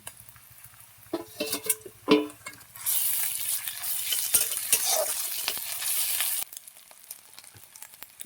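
Ginger-garlic paste goes into a pan of browned onions for masoor dal with spinach. A few utensil clatters come first, then a loud, steady sizzle that lasts several seconds before it drops back with light stirring taps.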